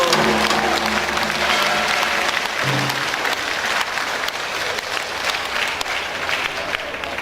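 An outdoor audience at a traditional Korean tightrope-walking and orchestral performance gives warm, continuous applause from a sizable crowd, with a sustained low instrumental tone fading beneath the clapping early on.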